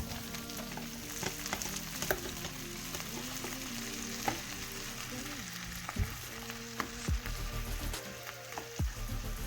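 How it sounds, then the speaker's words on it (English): Garlic and shallot fry over medium heat in a pan, a steady close sizzle broken by occasional sharp clinks and scrapes of stirring. "add your garlic and your shallot and cook for about 3 minutes before adding the shrimp"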